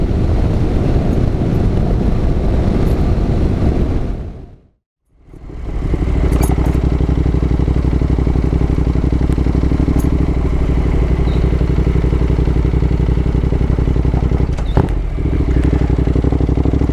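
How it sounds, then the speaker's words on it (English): A Honda NC750X motorcycle rides along a steep, rutted dirt road. Its steady engine drone sits under heavy wind rush for most of the stretch, with a brief dip to near silence early on before the drone and buffeting return. "let the bike squirm its way through"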